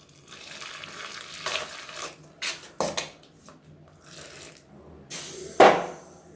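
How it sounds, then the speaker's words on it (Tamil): Rice flour stirred with hot water for kolukattai dough, heard as scattered scraping and clinking of a utensil against a bowl, with several sharper knocks and one loud clack near the end. "ஸோ இப்போது இதில் இந்த ஹாட் வாட்டரை கொஞ்சமாக ஊற்றி நம்ம வேண்டிய அளவு கலந்துக்கலாம்."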